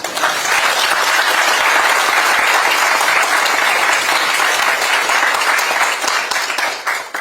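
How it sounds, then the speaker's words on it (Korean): Dense, sustained applause from an audience at a political lecture workshop, loud and continuous throughout with many hands clapping at once. "박수를 한번 치실래요?"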